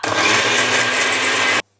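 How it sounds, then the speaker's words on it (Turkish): A blender making a margarita whirs at a steady high pitch, loud and close, then cuts off abruptly into silence. "Sonra blender'ı kapatıp"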